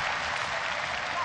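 A large arena crowd roars loudly and steadily at an MMA bout between two women fighters, a dense wash of cheering and applause with no clear gaps.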